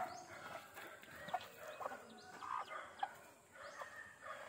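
Boston Roundhead cross gamefowl chicks peep in a backyard, a scatter of soft, high cheeps at close range over a quiet, faint background.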